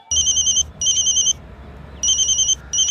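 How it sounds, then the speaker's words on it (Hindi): A telephone rings out on an outgoing call, its two-tone electronic ring tone sounding in four clear bursts separated by short gaps, moderately loud over a low background hum. "लगा फोन सिसोदिया को।"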